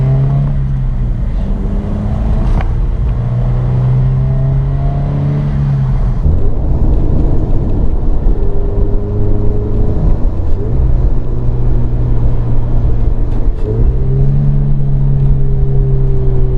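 A Subaru BRZ / Toyota GT86 / Scion FR-S 2.5-inch catback exhaust drones and revs repeatedly, its deep tone rising and falling in loud, close pulls.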